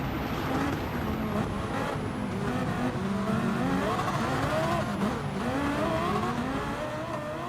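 A race car engine in Gran Turismo 7 roars continuously and loudly, its pitch rising and falling through gear changes, with a faint tire squeal.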